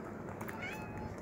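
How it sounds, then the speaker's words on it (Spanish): A small cat meows near the stairs of an outdoor lighthouse trail, one drawn-out meow rising over steady background noise, close and clear, with no talking. "Miren nomás, qué chulada de gatito."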